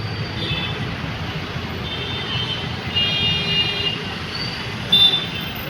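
Busy city road traffic in Adyar, Chennai, with school buses and share autos: a steady rumbling wash of engines with scattered horn toots and beeps, moderately loud and continuous.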